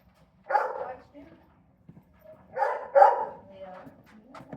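A dog gives a few barks at close range, a single bark followed by a pair of quick yelps a couple of seconds later, with indoor quiet between them.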